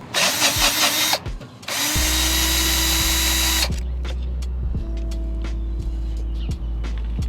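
A power tool whirs in loud close bursts while removing handlebar riser bolts on a Ducati Scrambler Icon, two spin-ups separated by a pause, followed by a steady low hum and a few metallic clicks.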